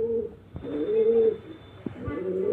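Pigeons in a loft coo close by in repeated soft, throaty rolling calls, with a few brief knocks and shuffles between the coos.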